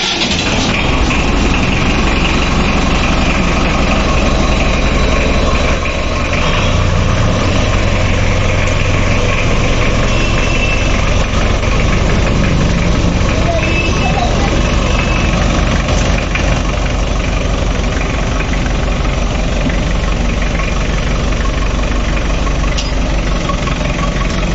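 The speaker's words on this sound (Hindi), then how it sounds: "तो भाई ट्रैक्टर की स्टार्टिंग देखियो आप एक बार" A 1971 Mahindra International 276 diesel tractor, made in England, cranks and starts, then idles with a loud, steady, knocking diesel rumble that continues close by for over twenty seconds.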